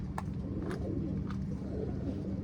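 Golden saleti pigeons give low, soft coos with a few faint higher chirps, heard close and steady without any talking.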